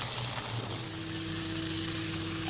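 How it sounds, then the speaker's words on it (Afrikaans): Gemsbok steak sizzles steadily in a hot frying pan, a dense, continuous crackle and hiss at close range with no talking. "dan draai jy hom om, dat hy net vinnig aan die ander kant ook braai"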